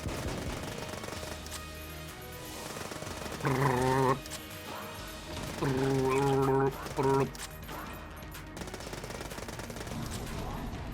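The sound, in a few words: rapid gunfire in the video game Enter the Gungeon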